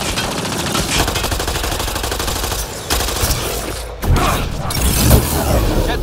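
Rapid automatic gunfire from a Mass Effect battle, dense bursts of weapon fire with mechanical clatter and a few heavier booms, loud and continuous throughout.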